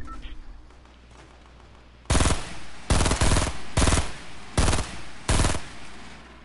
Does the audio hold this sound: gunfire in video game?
yes